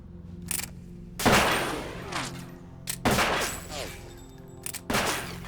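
Bursts of gunfire from the Metal Gear Solid 2 video game, three loud volleys spaced about two seconds apart, each with a sharp crack and a ringing, echoing tail over a steady low hum.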